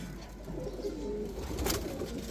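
A loft of around three hundred pigeons, mostly hens, coos in a steady low murmur that fills the space evenly throughout, with no voices over it.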